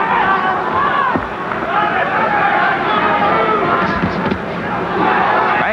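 A boxing crowd at an amateur USA versus Ireland bout at the Concord Pavilion in California roars and chatters in a continuous dense hubbub, with scattered shouts rising out of the noise.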